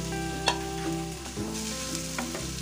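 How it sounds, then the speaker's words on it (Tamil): Bite-size onion and capsicum sizzle in melted butter in a kadai, a close, steady frying crackle broken by the scrape and click of a stirring spoon, with no voices. "பட்டர் மெல்ட் ஆனோடனே நம்ம பைட் சைஸாக அறுத்து வச்ச வெங்காயமும் கேப்சிகமும் சேர்த்துக்கலாம்."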